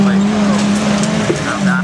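Engine of a Mini junior saloon racing at a Scunthorpe autograss meeting, a loud steady drone close by with a brief tyre squeal, while a commentator talks over it.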